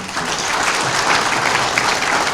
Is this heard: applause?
yes